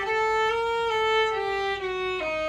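A single melodic instrument plays an Ayezein lick that starts on a held note and then steps down the scale, a few clean sustained notes sounding close and alone.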